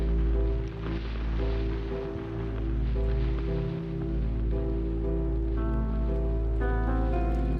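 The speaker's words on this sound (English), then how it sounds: "Just need a nice little airy Crackle." Airy crackle texture layered into a dense music mix in Cakewalk, a soft hissing, rain-like crackle running steadily beneath sustained tones and bass.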